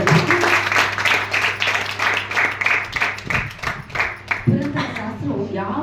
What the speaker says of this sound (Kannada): ಅವರಿಗೆ ಒಂದು ಜೋರಾದ ಚಪ್ಪಾಳೆ